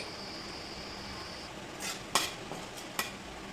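Bay leaf, whole garam masala and cumin frying in white oil in a wok, a faint steady sizzle with a few sharp clinks of a spatula or ladle against the metal near the end.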